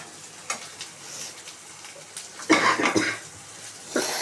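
Ginger paste frying in a pan makes a soft, steady sizzle with a few scrapes of stirring, growing louder and busier in the second half, heard close and alone.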